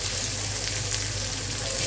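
Ginger and garlic fry with cumin powder in a pan, giving a steady, close hiss of sizzling oil that runs unbroken throughout with no talk.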